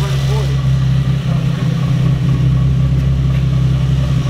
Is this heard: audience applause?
no